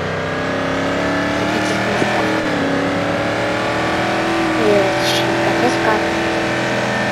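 A car drives in the Roblox video game, its engine a steady, continuous drone with shifting pitch as it speeds along, with brief swells and a voice talking over it.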